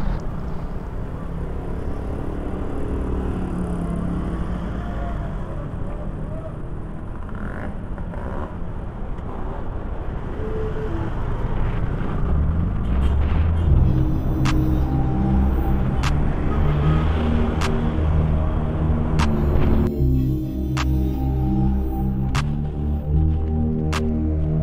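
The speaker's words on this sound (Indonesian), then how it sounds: "ada macet di belakang kita ya" Stalled traffic grinds on the Lembah Anai climb, with idling engines humming steadily and a deeper, droning vehicle tone rising nearby later on; no one speaks.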